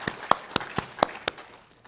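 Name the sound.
congregation applauding in church service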